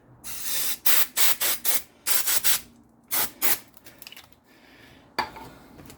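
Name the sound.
cleaning a brake rotor, likely with spray cleaner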